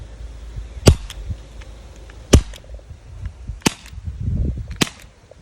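A Makarov CO2 BB pistol fires four sharp, sudden cracks spaced about a second apart, near and loud against quiet background with faint rustling.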